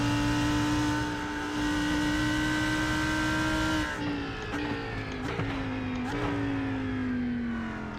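Race car engines in the iRacing sim at the 24 Hours of Daytona, with an LMP2 prototype nearby: a loud, steady high engine drone that dips and shifts through gear changes and lifts in the second half, with no talk.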